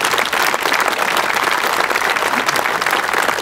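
A crowd at an airfield night engine run, held at Nanton, claps loudly for the volunteer fire crew in a sustained, dense round of applause.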